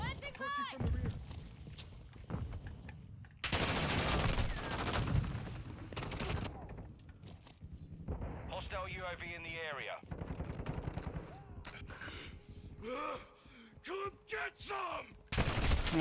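Bursts of automatic sentry gun fire in Call of Duty Modern Warfare 2, loud rapid volleys separated by quieter gaps, mixed with other game sounds.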